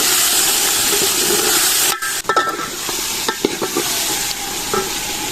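Cauliflower frying with potatoes and tomatoes in a pan: a loud, steady sizzle breaks sharply as the vegetables go in, followed by a quieter hiss and irregular spatula scrapes and taps close by.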